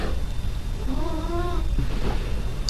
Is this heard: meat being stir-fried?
no